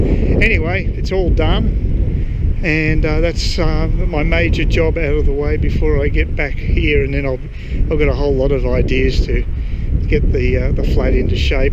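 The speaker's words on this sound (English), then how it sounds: "So sorry about the wind, it's just constant up here." Constant wind buffeting a microphone outdoors on an exposed, windy spot, a steady low rumble running under a person talking throughout.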